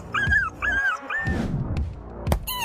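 A dog yelps and whimpers after a marmot bites it, giving a quick series of high, pained cries up close, ending in a sharp yip.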